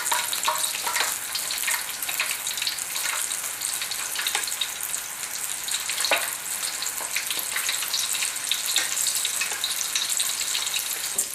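Tofu fries in a hot pan of oil with a dense, continuous crackling sizzle and scattered sharper pops, loud and close throughout.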